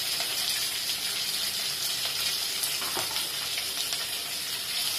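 Green chillies, curry leaves and onion with asafoetida fry in hot oil for roti upma, a steady dense sizzle with faint stirring scrapes running close and continuous throughout.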